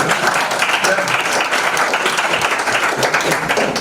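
An audience at a national pitch competition in Burundi applauds, dense steady clapping filling the room for several seconds, with voices mixed in.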